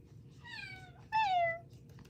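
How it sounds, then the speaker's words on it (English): Indoors, a talkative cat gives two drawn-out meows in a row, the second louder and nearer, over a low steady room hum. "Like sometimes he meows just to meow, but that's part of the breed."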